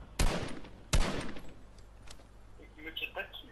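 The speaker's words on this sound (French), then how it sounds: "je tire à côté pour te déstabiliser" Gunfire in a Fortnite 1v1 battle: two loud, sharp single shots about three-quarters of a second apart, each with a short echoing tail, followed by quieter game sounds.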